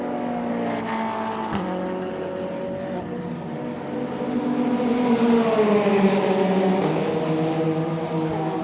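A Lamborghini GT race car circuits Portimao at night during a 24-hour endurance race, its engine note sustained and fairly distant, swelling louder about halfway through with shifting pitch as it passes.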